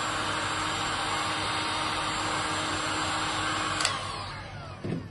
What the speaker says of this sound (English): So now here, this is my hot air blower.